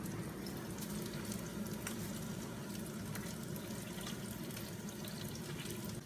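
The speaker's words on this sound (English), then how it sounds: "I'm going to add some spaghetti into a boiling water." Spaghetti goes into a pot of boiling water, and the water keeps up a steady bubbling, hissing roil at a quiet level throughout with no talk.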